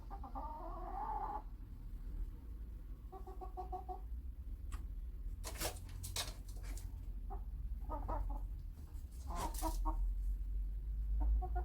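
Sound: chickens clucking

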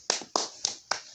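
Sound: people clapping

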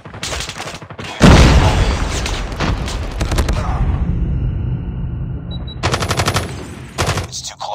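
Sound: grenade explosion and gunfire in the video game Call of Duty

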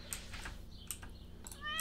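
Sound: cat meowing in Stardew Valley-style video game

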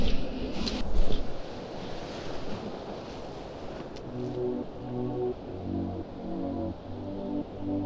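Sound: ocean waves breaking on the beach

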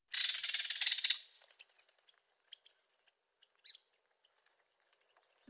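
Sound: bird call

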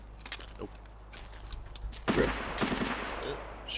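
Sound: gunfire in a first-person shooter video game

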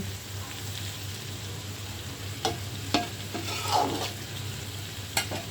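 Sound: onion frying in oil for liver bhuna

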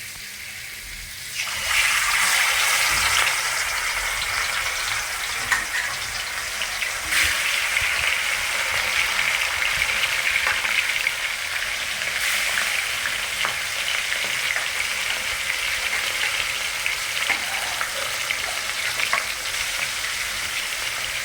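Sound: fish frying in hot oil

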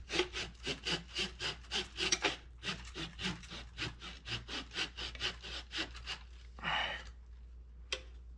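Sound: trimming wood, likely by sawing

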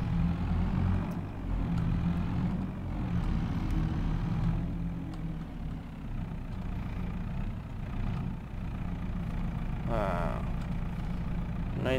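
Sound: tractor engine running in field

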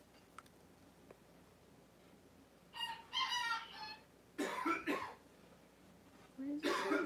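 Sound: chickens in another room

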